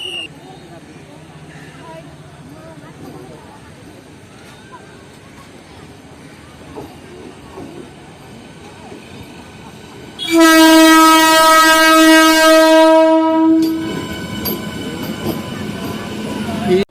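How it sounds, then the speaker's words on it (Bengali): A train pulls into Rampurhat station, its low rumble building until a long, loud horn blast of about three seconds sounds, followed by station noise and the clatter of the arriving cars. "আমাদের ট্রেন তার নির্ধারিত সময় থেকে একত্রিশ মিনিট দেরিতে ঢুকছে"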